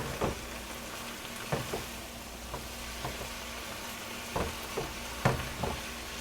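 Taco meat seasoned with smoked paprika being stirred in a hot pan: a steady low sizzle with scattered scraping clicks and spoon knocks, a few louder strokes spaced irregularly, close by with no talking.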